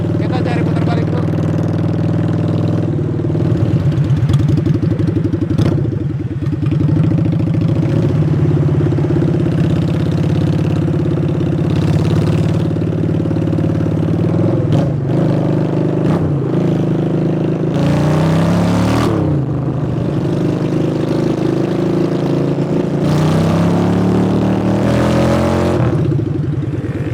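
A Honda Shadow converted into a bobber rumbles along while being ridden in the rain. Its low engine drone holds steady throughout, with occasional rises and dips as the throttle changes, close and loud, with passing road and wind noise.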